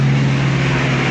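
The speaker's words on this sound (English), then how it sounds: "just a plane going overhead" Aircraft engine drone from a plane passing overhead, a steady, fairly loud broadband roar with a strong low hum throughout the short stretch, no voices.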